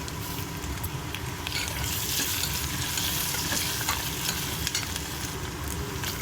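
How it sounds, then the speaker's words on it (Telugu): Ginger garlic paste and curry leaves frying in a pan, a loud, dense and continuous sizzle that runs the whole time with stirring mixed in, close up and with no talking. "కరివేపాకు వేసుకుందామండి"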